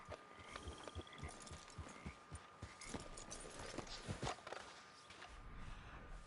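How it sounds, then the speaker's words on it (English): A horse's hooves clip-clop in Red Dead Online, a faint, uneven run of soft thuds at close range over a quiet game background, with no talk. "If I get on the horse and back off"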